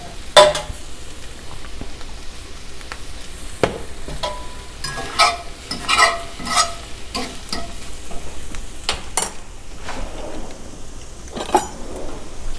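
Shredded cabbage and eggs stir-fry in a pan with a low sizzle, broken by repeated scraping and clattering from a utensil stirring and tossing the food. The sounds are close and uneven, with no talking.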